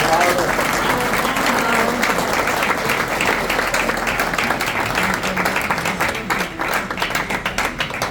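Sustained audience applause at a regional amateur football association's awards and honours ceremony held in a hotel hall, a dense steady clatter of many hands that holds loud for the whole stretch, thinning slightly near the end.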